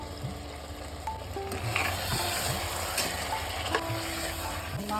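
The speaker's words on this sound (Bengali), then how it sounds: "আলুগুলো দিয়ে দিলাম, একটু হালকা করে এবার একটু কষাবো।" Potatoes and mutton being sautéed in a pan for Kolkata-style mutton biryani give a steady close sizzle, with scattered scraping and stirring clicks throughout.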